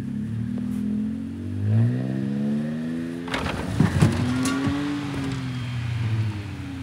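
Car engine revving while stuck in winter snow, its pitch rising and falling in repeated strained surges, close and loud, with brief bumps and thumps partway through.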